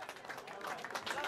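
Audience applause at a memorial sports event auction, dense steady clapping from a crowd throughout the short moment, with some voices mixed in.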